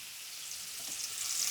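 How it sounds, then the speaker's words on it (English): Onion, garlic and fennel sizzle steadily in a hot pan after chicken is removed, a continuous bright frying hiss that swells slightly toward the end, with no voices. "Now, we're gonna add all of onion, garlic, and fennel."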